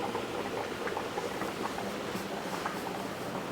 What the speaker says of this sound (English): Okay, so we're coming to a boil now.